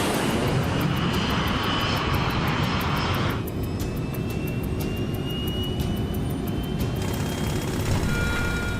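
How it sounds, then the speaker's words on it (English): Jet engines of an airliner roar steadily during its takeoff roll, loud and continuous, with the broad rushing noise easing slightly partway through while the deep engine drone carries on alone. "They can't lift off until they reach 157 knots."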